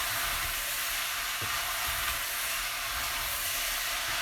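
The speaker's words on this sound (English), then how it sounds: "So we just want to cook that until all the sausages take on some colour" Sausage balls frying in a pan for a sausage and fennel pasta sauce, a steady close sizzle running throughout with a few scraping stirs, no talking.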